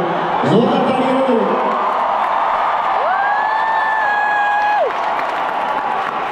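A large concert crowd at a live show in Amsterdam applauds and cheers, a loud, dense wash of clapping with rising whoops and sustained shouts throughout.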